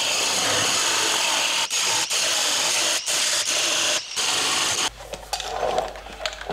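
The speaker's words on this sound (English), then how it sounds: "Take my angle grinder now and dress up all of these welds before we weld the body mount on." An angle grinder dresses fresh welds on the steel body panel of a Toyota FJ45 Land Cruiser under restoration, a loud, steady close-up whine broken by several brief lifts off the metal before it winds down.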